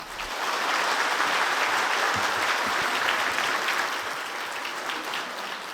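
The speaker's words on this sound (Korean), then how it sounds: "목사님 나오실 때 박수로 환영하겠습니다" A church congregation applauds to welcome a visiting pastor to the pulpit, dense, steady clapping from a full room that holds evenly for several seconds before easing slightly at the end.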